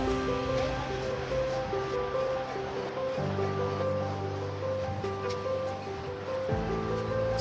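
River water rushes steadily through The Narrows canyon in Zion National Park, a close, constant wash of flow that carries on unbroken, with low tonal hum layered underneath.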